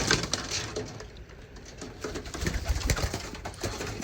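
Racing pigeons in a loft cooing close by, repeated low throaty calls mixed with faint shuffling and wing or wood knocks, no talking.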